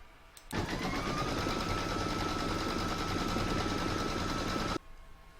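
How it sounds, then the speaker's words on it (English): An embroidery machine stitches an in-the-hoop design in one continuous, steady, close mechanical run of about four seconds that starts and stops abruptly, with no talking. "I'm going to put that in my machine and stitch round number 2"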